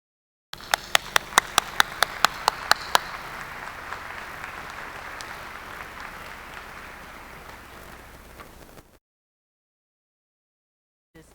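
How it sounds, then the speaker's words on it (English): Applause for graduates at a law school ceremony, a few sharp claps at first, then a broad, even wash of clapping from a crowd that fades out over several seconds before silence. "I hope that all of you mentioned will applaud each other and also accept all of our applause"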